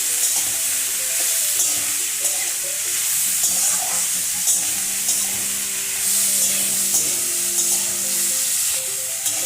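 Potatoes and snake gourd fry in oil over a high gas flame, giving a steady loud sizzle with occasional stirring scrapes and no talking.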